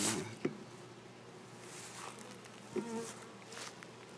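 Honey bees hum in a steady, faint drone during a swarm hive inspection, with a few soft knocks and handling sounds near the frames.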